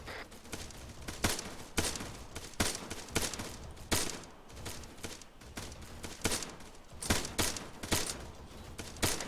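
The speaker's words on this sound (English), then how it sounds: "Okay, they're shooting back now." Sustained exchange of gunfire in a military video game, with rapid bursts and single shots cracking repeatedly throughout and no talking.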